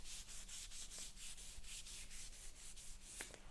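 Rhythmic rubbing of a car body panel coated with guide coat on a 1926 GP Salmson, steady back-and-forth abrasive strokes, close and quiet, with no talk.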